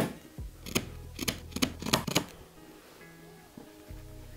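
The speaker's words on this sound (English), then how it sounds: "a nice strip that I can then cut down to form the belt loops" Scissors cut a strip of denim into belt loops with a quick run of about six crisp, close snips. Quieter handling sounds follow.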